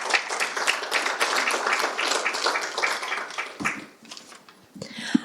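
Applause from a hybrid public meeting audience for the panelists, a moderate patter of many hands clapping for about four seconds, then thinning out to scattered claps.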